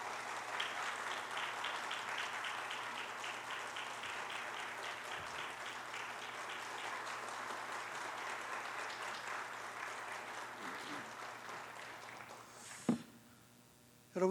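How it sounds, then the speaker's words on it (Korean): A church congregation gives sustained, enthusiastic applause welcoming a pastor to a revival meeting, dense clapping that slowly fades before a brief knock and near silence at the end. "큰 박수로 열렬하게 맞아 주시기를 바랍니다"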